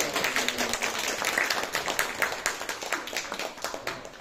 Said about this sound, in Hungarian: Nagy tapsot adok!